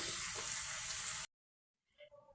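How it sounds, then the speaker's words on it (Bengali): Potatoes fry in oil in a covered pan, a loud, even hissing sizzle lasting just over a second before it cuts to silence, followed by a few faint clatters. "ঢাকা দিয়ে বেশ কিছুক্ষণ ভালো করে ভাজা করে নেব তেল তেল দিয়ে"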